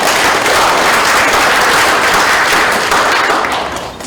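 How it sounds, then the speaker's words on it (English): Audience applause at the AKBFF 2023 inauguration ceremony, loud dense clapping from a large crowd that holds steady and then begins to fade toward the end. "Would you give me a round of applause?"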